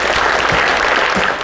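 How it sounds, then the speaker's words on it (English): An induction ceremony crowd gives loud, continuous applause, a thick wash of many hands clapping at once that holds steady throughout the short stretch. "Y'all give a big warm welcome of applause to Tom Nelson,"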